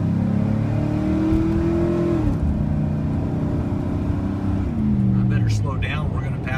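The engine of a lifted 2000 Chevy 2500 4x4 single-cab truck revs loudly and steadily, its low rumble rising and falling in pitch as the throttle changes, close up and continuous throughout.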